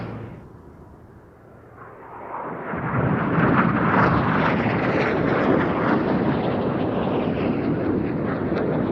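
An aerobatic display jet at the 2010 Duxford Battle of Britain Airshow approaches from faint to a loud, sustained roaring rush that holds through the pass.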